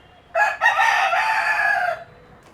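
A Brahma chicken being let out gives one loud, near crow lasting about a second and a half, rising sharply and then cut off, with quiet surroundings before and after.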